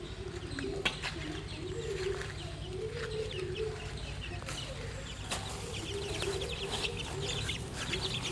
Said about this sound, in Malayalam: പിന്നെ നമ്മുടെ കോഴിക്കുട്ടികൾ അവിടെ നടക്കുന്നുണ്ട്.